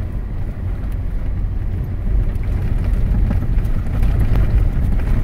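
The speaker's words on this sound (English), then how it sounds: "right now, I'm just driving alongside the fence" A car drives alongside the US-Mexico border fence near Organ Pipe Cactus National Monument, Arizona, giving a steady loud low rumble of engine and road noise, with wind buffeting the microphone throughout.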